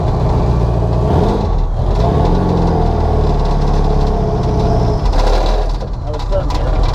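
A turbocharged 1967 VW Beetle engine pulls steadily through the gears, loud and close inside the car, with rising and falling revs and a dip around each shift.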